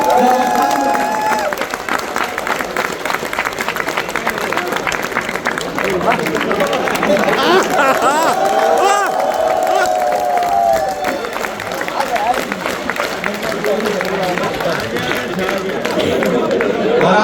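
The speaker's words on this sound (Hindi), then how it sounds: "जोरदार तालियों की गूंज में इस्तकबाल कीजिए।" Loud audience applause and cheering fill a Jashn-e-Urdu poetry gathering in Dubai, a dense continuous roar of clapping and shouts with some voices rising above it throughout.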